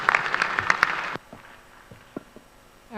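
A venture capital pitch competition audience claps briefly, with a burst of applause that stops abruptly after about a second. Scattered taps follow in a quiet room.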